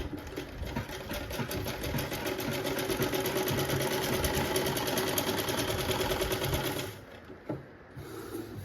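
A sewing machine stitches lace along the edge of a chunni with a half-inch margin, a steady close rapid mechanical whirring and clatter for about seven seconds before it stops and a few faint handling sounds follow.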